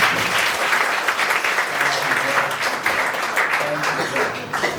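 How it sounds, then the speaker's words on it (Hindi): A church congregation claps in thanks at a service, with dense, sustained applause filling the room throughout and voices mixed into the clapping. "ताली बजा के यीशु को धन्यवाद।"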